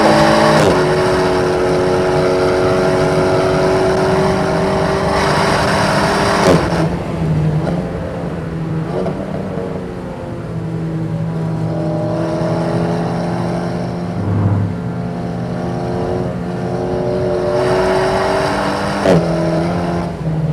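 Car driven hard on a wet Nürburgring, its engine note loud and close throughout, holding steady harmonic pitches that rise and drop as gears change, with a brief lull midway before pulling hard again.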